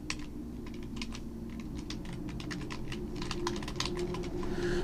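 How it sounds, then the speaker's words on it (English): Fingers typing an email address on a computer keyboard, giving a quick irregular run of light clicking keystrokes over a low steady room hum, close and fairly quiet with no talking. "So I'm gonna type in an email."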